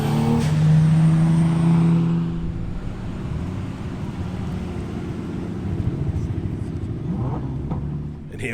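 A Nissan R33 Skyline with an RB25 engine and custom fabrication work rolls in at a New Zealand car meet, its engine note swelling then settling into a steady idle rumble amid crowd chatter.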